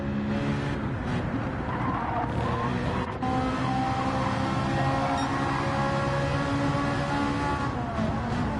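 Race cars in a racing game sliding and drifting, a continuous loud engine roar with tire scrub and squeal layered throughout, steady and unbroken.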